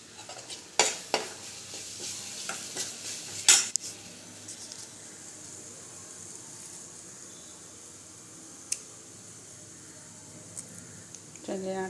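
Asafoetida powder goes into hot oil for karpuravalli rasam and is stirred, with a few sharp metal clinks of a spoon against the pan early on over a soft, steady sizzle.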